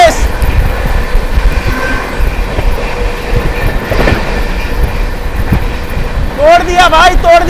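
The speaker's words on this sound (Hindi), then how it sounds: "सिकोवा जंक्शन पर ओवरटेक मार रहे हैं मरुधर एक्सप्रेस को" Shiv Ganga Express overtaking the Marudhar Express at a junction, a steady loud rumble of rolling rail cars with a brief rising squeal near the end, while a voice talks over it.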